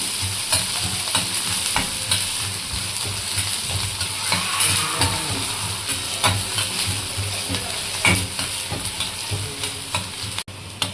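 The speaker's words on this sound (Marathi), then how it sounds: "मी कांदा टाकत आहे तेलामध्ये। कांदा आपण लालसर भाजत आहोत" Onions fry in oil until reddish, not burnt, with a loud, continuous crackling sizzle close by and repeated stirring scrapes and clicks of a spoon against the pan.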